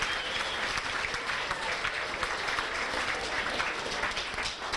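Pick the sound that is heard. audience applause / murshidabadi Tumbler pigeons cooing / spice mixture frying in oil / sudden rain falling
audience applause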